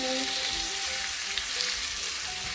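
Onions and Scotch bonnet pepper frying in a pan for coconut curry prawns, a loud, dense, continuous sizzle heard up close while being stirred.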